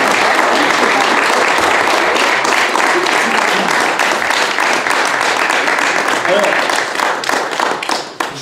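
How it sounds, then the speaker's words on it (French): A crowd at a radio station's inauguration applauds steadily for about eight seconds, with dense, loud clapping and some voices mixed in before it tapers off. "j'aimerais qu'on l'accueille avec quelques applaudissements"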